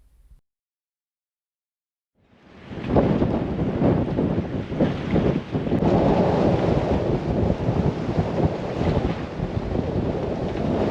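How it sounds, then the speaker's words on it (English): Strong wind buffets a sailboat riding at anchor, a loud, continuous roaring rush with gusty surges that starts after a brief near-silent moment and keeps blowing hard. "We're actually at anchor, and it's just really windy."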